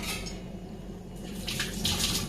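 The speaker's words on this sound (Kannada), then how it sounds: "ಈ ಹಾಗಲಕಾಯಿಗೆ ಸ್ವಲ್ಪ ಹುಣಸೆಹಣ್ಣು ನೀರು ಹಾಕ್ತೀನಿ" Tamarind water poured onto cut bitter gourd in a kitchen vessel, a soft splashing trickle that swells toward the end, close and fairly quiet with no talk.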